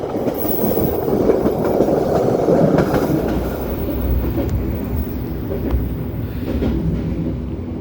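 The Cikuray passenger train passes close by near Sasak-Saat, a loud rolling rumble with rhythmic clickety-clack of wheels over rail joints that eases slightly toward the end.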